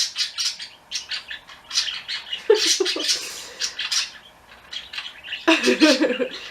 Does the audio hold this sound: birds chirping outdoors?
yes